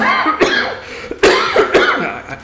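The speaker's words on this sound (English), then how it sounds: "I apologize for the coughing." A person coughs several times in close, harsh bursts, with short pauses between the coughs.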